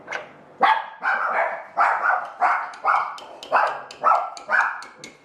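A dog barks repeatedly in a steady rhythm, about nine loud, close barks with short gaps between them.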